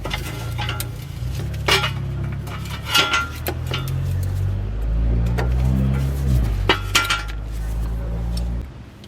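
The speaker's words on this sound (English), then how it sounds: "I'm going to take off the cotter pin to the nut" A cotter pin is worked out of a ball joint nut on an Acura TL suspension, with small metallic clinks and ticks close by over a low steady hum.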